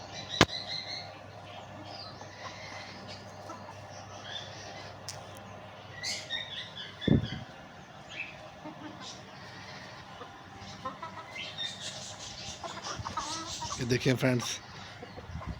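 Hens dust-bathing in sand scratch, flutter and give soft clucks and calls throughout, with someone talking over them and a louder burst of scratching and flapping near the end.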